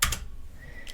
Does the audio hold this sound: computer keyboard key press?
yes